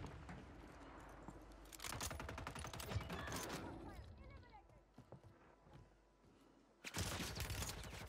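Gunfire in Call of Duty on Rebirth Island, with sharp bursts of shots among talk and game noise, fairly faint overall.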